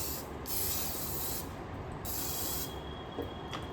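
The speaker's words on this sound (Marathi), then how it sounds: "आता त्याच्यावर असा ऑइल स्प्रे मारायचा" Two bursts of oil spray hiss onto veg puffs set in an air fryer basket, close and steady, each spray lasting about a second, with quiet kitchen background between.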